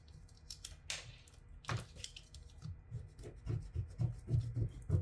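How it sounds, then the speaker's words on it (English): Adhesive vinyl with glitter being scraped: soft, close rubbing strokes in an irregular rhythm, quiet overall and growing denser toward the end. "Scrape it from both sides"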